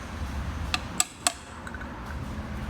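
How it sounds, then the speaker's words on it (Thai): A few sharp metallic taps as a hammer drives a 32 mm socket onto a motorcycle shock seal, three quick strikes close together, ringing briefly over a low steady background hum. "ค้อนเคาะลงครับ"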